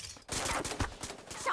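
Gunfire in the battle royale game Super Mecha Champions comes as a quick burst of rapid, sharp shots, faint overall and with no voices.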